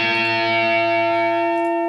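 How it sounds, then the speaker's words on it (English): An electric guitar rings out with a sustained distorted chord, held steady and fairly loud with a faint reverb tail adding depth. "Then we got the reverb again, just very subtle"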